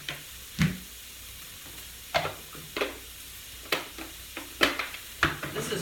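Garlic being pressed in a Tupperware garlic mincer, heard as a series of sharp, close clicks and crunchy squeezes at irregular intervals, with quiet kitchen background between them and no talking.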